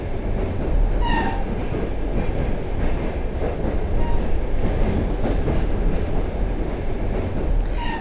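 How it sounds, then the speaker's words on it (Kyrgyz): An electric train rolls along the rails near Stepnogorsk, Kazakhstan, a steady, close rumble of wheels and carriage noise that holds at an even loudness throughout, with no voices. "Ал эми биз электр поезд менен саякатыбызды уланттык."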